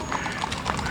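Horses clip-clop along a street in the 2023 Drummond rodeo parade, a quick run of hoofbeats on pavement fairly close by, with a faint crowd murmur underneath.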